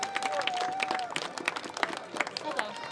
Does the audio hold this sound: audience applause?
yes